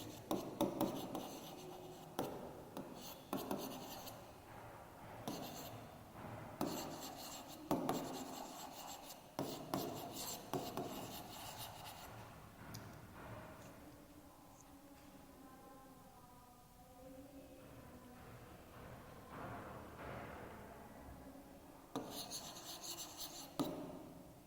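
Marker or chalk scratching across a board during a class 5 math lesson on time and temperature, rhythmic strokes in bursts with short pauses, close and moderately loud, with no voice over the writing.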